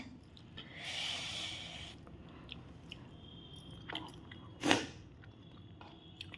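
Someone chews a thin fish curry with rice and gandharaj lemon, soft, wet mouth sounds up close with squishy bites and a loud sniff or snort.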